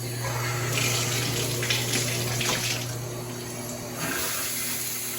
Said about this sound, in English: then we'll turn on the water and see what happens